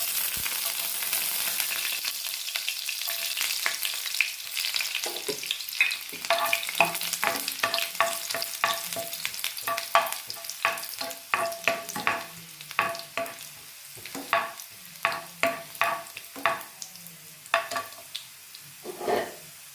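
Chopped garlic frying in hot sunflower oil in a home kitchen pan, a steady close sizzle with frequent sharp crackles and pops that grow sparser toward the end, with no talking.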